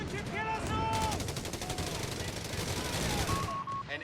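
An MG-42 machine gun in Company of Heroes 3 fires a continuous rapid burst at close range over a busy battlefield backdrop, with a voice briefly audible.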